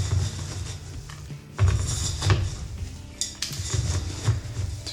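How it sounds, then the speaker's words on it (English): Bonsai soil being mixed with clay pebbles for a tropical ficus planting, giving scraping, gritty rustles and clinks of pebbles that rise and fall in several stirring bursts at moderate loudness. "I'm gonna mix in the soil here a little bit."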